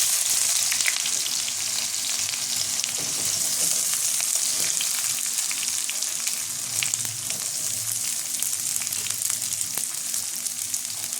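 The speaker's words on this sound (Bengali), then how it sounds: "পেঁয়াজটা আমি লাল লাল করে ভেজে নেব, ভালো করে একটু ভালো করে লাল করে ভাজবো।" Onions fry in a pan with whole spices and dried chilli for a Bengali-style mutton tarka, giving a steady, dense, close sizzle that stays even throughout with no talking.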